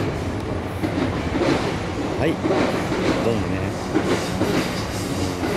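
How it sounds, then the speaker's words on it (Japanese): A train rumbles past with a steady rolling roar and rhythmic clatter, while a person speaks briefly over the noise. "電車か"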